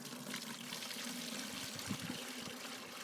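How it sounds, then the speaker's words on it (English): Water drains off a bucket of wild clay slurry in a steady, close pouring trickle that runs evenly and continuously without pause. "So now I just have to drain this off of."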